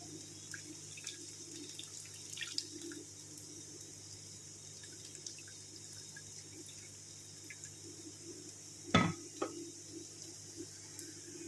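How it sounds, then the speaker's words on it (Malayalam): Jaggery tamarind water for a homestyle Kerala ginger curry is poured through a strainer, giving a faint, soft trickle of liquid with a brief louder splash near the end, against a quiet background hum. "അരിച്ചെടുക്കാൻ വേണ്ടി ഒരു അരിപ്പ് വെച്ചിട്ടുണ്ട് അതിലേക്ക് ഈ വെള്ളം ഒഴിച്ച് കൊടുക്കാം"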